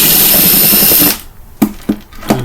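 A powered screwdriver or drill whirs loudly for about a second while taking screws out of a Cuisinart coffee brewing machine, then stops, followed by a few short spaced bursts of the motor, close up.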